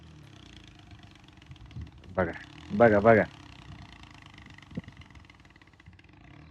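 A tractor engine rumbles low and steady in a farm field of marigold plants while someone talks over it, the motor sitting moderately distant beneath his voice.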